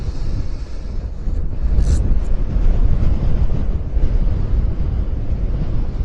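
Heavy wind buffeting roars across the microphone while riding a Qingqi 125 Vista scooter, a loud, steady low rumble throughout with a brief brighter gust near the middle.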